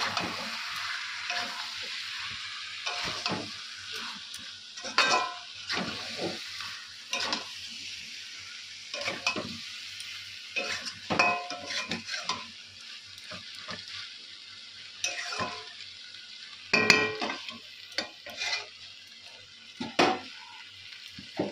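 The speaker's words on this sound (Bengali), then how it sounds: "মাংসটা প্রায় কষানো হয়ে গেছে।" Meat being stirred and sautéed in a pan, a steady sizzle broken by repeated scraping stirs at an irregular rhythm, close and moderately loud with no talking.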